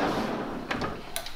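A rear storage drawer built into the back of a car slides along its runners, a steady rolling rush followed by a few short knocks and clicks as it stops, close and fairly loud.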